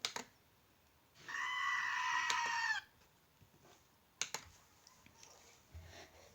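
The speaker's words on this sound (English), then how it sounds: "He let out a goat scream." A loud, drawn-out animal scream, used as a comic goat-scream effect, lasting under two seconds, with small clicks and taps around it in an otherwise quiet setting.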